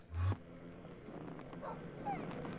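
A dog barks once in a Minecraft hardcore game, a short, fairly faint yelp at the start over steady game ambience and scattered background sounds.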